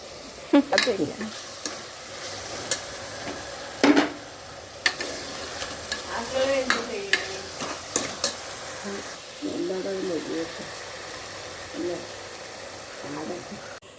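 Onion, ginger, green chilli and garlic sauté in oil for a beef curry, with a steady sizzle running under repeated spatula scrapes and clinks against the pan. A voice talks intermittently over the cooking.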